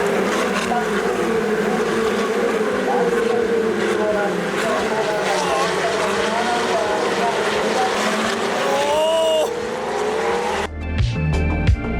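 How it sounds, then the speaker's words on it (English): Ferrari race cars racing on a circuit in Japan, engines screaming and rising and falling in pitch as they pass at a distance, a continuous loud roar with a sharp cut near the end. "then there was a Ferrari race on"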